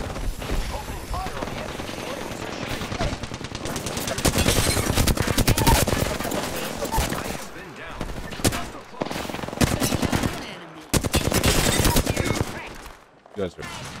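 Sustained automatic gunfire from Apex Legends, dense bursts of rapid shots at close range with brief pauses, sometimes under faint voices.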